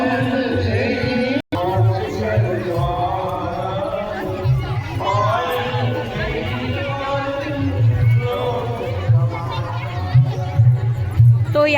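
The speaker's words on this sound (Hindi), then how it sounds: "तो यहाँ देख सकते हो भारी भीड़ बने हुए हैं।" Dense babble of a large crowd gathered at an outdoor yajna ground during a Rudra Mahayagya, continuous overlapping voices filling the space with occasional louder bursts, steady throughout apart from one brief dropout.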